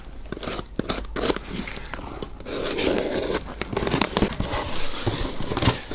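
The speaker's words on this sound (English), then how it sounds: "Got a little knife out and cut into this." A small knife cuts open the packaging of a Tamiya 1/24 scale VW Beetle model kit, producing close, irregular crinkling, tearing and scraping of cardboard and plastic wrap in rapid bursts.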